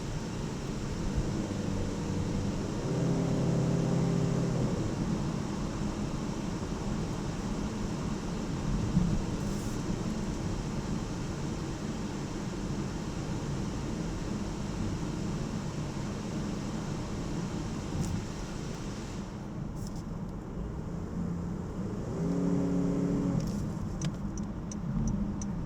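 A 2019 Honda HR-V Sport's engine and road rumble drone steadily from inside the cabin, with a soft ticking now and then and no talking.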